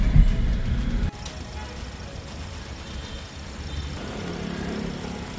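A used 2020 repossessed vehicle idles with an even, low engine hum. The opening second is louder and rougher before the sound settles into a quieter, stable drone.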